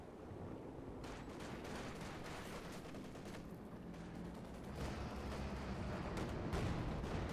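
Battle noise from a Company of Heroes match: a Panzer IV tank and other units firing, a steady dense wash of gunfire and cannon blasts with sharp reports that stays busy and grows louder toward the end, with no voices.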